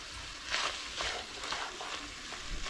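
Ground beef and bell pepper sizzling in a frying pan, a steady crackling fry with periodic scraping bursts as a utensil stirs the mixture, close and fairly quiet.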